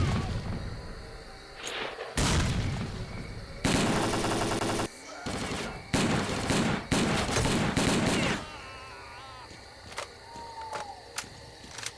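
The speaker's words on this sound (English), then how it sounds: "I'll just do an old-fashioned grenade." A grenade detonates amid a STALKER: Clear Sky firefight, with loud booming blasts and rattling bursts of gunfire arriving in heavy clusters, then thinning to scattered pops while a voice speaks briefly.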